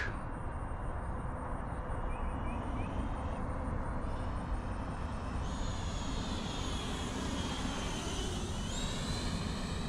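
An E-flite Viper 90mm RC electric ducted-fan jet on a landing approach with flaps down, its steady high-pitched fan whine continuous and fairly distant, rising and falling in pitch as it passes.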